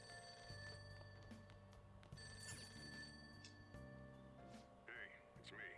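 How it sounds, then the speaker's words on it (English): A telephone ringing in the video game Persona 5 Royal, a repeated electronic ring pattern sitting under steady game music, moderately loud and close. "that'll be the phone"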